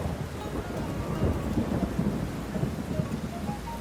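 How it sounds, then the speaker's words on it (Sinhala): Heavy rain pours outside Seoul Station in South Korea, a steady, dense roar of downpour with a low rumbling undertone that runs throughout, with no voices. "වහිනවනේ අප්පා මොනවත් කරගන්න බෑනේ"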